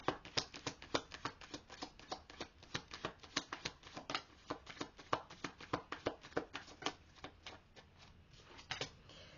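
Twin Flame oracle cards being shuffled, a quick, steady run of soft crisp flicks and taps repeating for several seconds, close and quiet with no speech.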